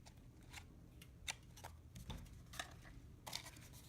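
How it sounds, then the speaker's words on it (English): Scissors snip piñata paper in quick, faint, close cuts. The clicks come in an uneven rhythm over a quiet room. "And if it's a bit too long, you can always just cut them"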